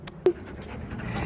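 A puppy pants close by in quick, short breaths, with a brief whimpering yelp early on.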